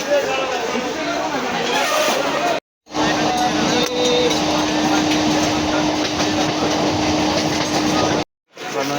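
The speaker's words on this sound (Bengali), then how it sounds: "আমরা স্টেশনে পৌঁছে গেছি।" A train rumbles at a railway station, a continuous loud rolling roar with faint rail clatter and two brief cutoffs, and voices are heard among the noise.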